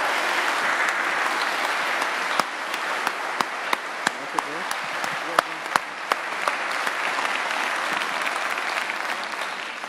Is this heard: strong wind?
no